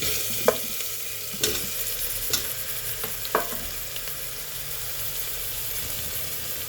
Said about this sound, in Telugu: ఇప్పుడు ఆలుగడ్డలు వేసుకుందాము.